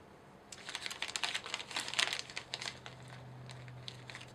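Material for a wide, sturdy crochet hat brim being cut, giving a quick run of crisp, close snips and crinkles over a couple of seconds before things settle into quiet room tone.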